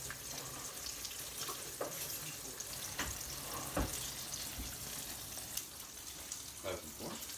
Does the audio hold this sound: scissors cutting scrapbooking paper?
no